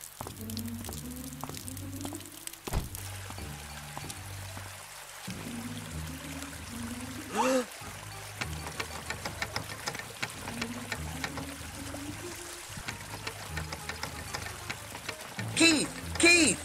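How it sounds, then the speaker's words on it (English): In an animated cartoon, water from a hose caught in a closed car door pours and splashes steadily into the car, running under tonal background sounds with occasional louder knocks. "why is there water pouring into the car? You closed the door on the hose!"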